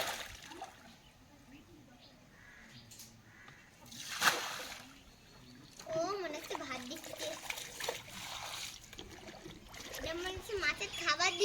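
Water from a bucket splashes and trickles outdoors near a pond, a brief gush followed by sloshing and dribbling, while people talk over it throughout.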